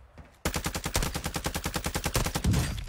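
Rapid automatic gunfire in a video game, a fast even burst of about twenty loud close shots running for over two seconds after a brief quiet lead-in.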